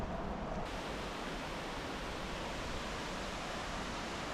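Watson Falls in Southern Oregon, a roadside waterfall, roaring as a steady, dense, broadband rush that stays constant and close throughout, with no voices.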